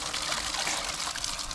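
Water running from a pipe in an Andhra village, a steady close gush and trickle that fills the whole stretch without a break.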